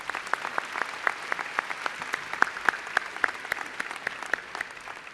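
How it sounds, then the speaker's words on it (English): A high school graduation audience applauds with a dense, steady patter of many hands, moderately loud and continuous across the whole stretch, with no voices standing out. "Please give our district administration a round of applause."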